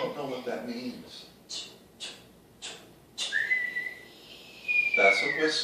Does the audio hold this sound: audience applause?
no